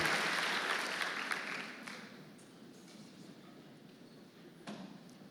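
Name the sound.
congregation applauding in church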